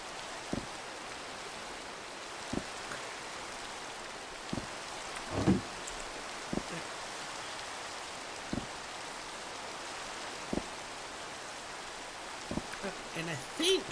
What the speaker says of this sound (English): since it's raining, if we just put these out here, they're going to fill up